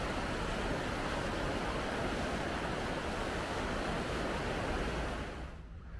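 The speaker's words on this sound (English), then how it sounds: "Just love listening to that water." Flowing water in a botanical garden in Cuenca, Ecuador rushes as a continuous broadband wash like a small waterfall or fountain, steady and close, thinning slightly just before the end.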